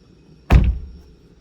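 A single solid thunk of a 2026 Hyundai Exter SX car door being shut, close and clear with a short low rumble, no talking.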